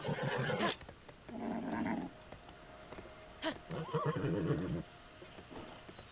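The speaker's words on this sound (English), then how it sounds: "Okay, so I got the giant horse." A giant horse neighing inside a LittleBigPlanet 3 recreation of Zelda: Tears of the Kingdom, several loud throaty whinnies and snorts in bursts with short gaps, plus a couple of sharp thuds.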